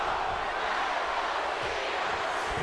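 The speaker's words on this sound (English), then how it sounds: "Now the crowd's firing up here." A large wrestling crowd fills the Tokyo Dome with a steady, dense roar that rises as fans get fired up during a match, continuous and broad without any single standout shout.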